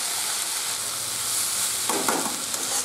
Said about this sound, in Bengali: তো এখন এভাবে একটু নেড়ে চেড়ে ভালো করে রান্নাটা আমি করে নেব।